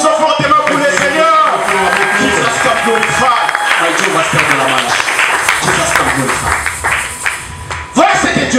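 A church congregation applauds loudly during a consecration service, the dense clapping mixed with cheering voices and music throughout.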